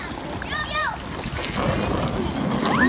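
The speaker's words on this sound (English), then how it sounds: "Alright guys, so I got the hose right here." A garden hose sprays and splashes water onto an inflatable bouncy water slide at a backyard play session, a continuous close splatter under children's voices and chatter.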